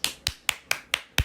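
Six sharp hand claps in an even, slightly quick rhythm, each crisp and close, separated by brief silences.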